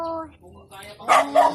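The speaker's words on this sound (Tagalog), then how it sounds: "May aso kami" A household dog barks twice in quick yelps close by, with a person talking just before.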